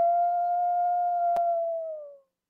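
A single wolf howls in one long, steady, sustained tone that fades out after about two seconds, with a brief click partway through and no other sounds.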